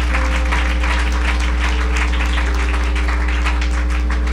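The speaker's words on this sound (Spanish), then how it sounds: "Dale un aplauso al Señor, hermano." A church congregation applauds, with steady, rapid clapping spread across the whole stretch over a constant loud low hum.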